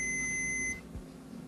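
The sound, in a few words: continuity tester buzzer beeping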